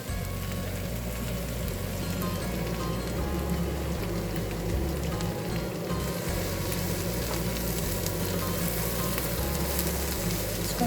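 Eggplant and mushrooms fry in plenty of oil in a pan, giving a steady, dense sizzle and crackle that runs unbroken from start to finish with no talking.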